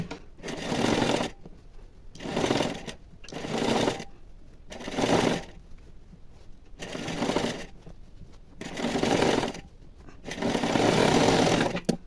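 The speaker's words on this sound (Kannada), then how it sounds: "ಒಂದೇ ಒಂದು ಸ್ಟಿಚ್ ಹಾಕಿದ್ದೀನಿ, ಈಗ ಇನ್ನೂ ಒಂದು ಸ್ಟಿಚ್ ಹಾಕಿಬಿಡ್ತೀನಿ." Sewing machine stitching the seam of an elbow-length puff sleeve on a blouse, running in about seven loud, steady bursts separated by short pauses, with no talking.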